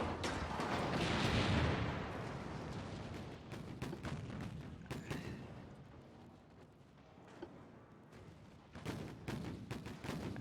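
Naval gun shells firing in Ultimate Admiral Dreadnoughts, heavy booming salvos with a rolling rumble, followed by scattered sharper reports at irregular intervals, fairly distant.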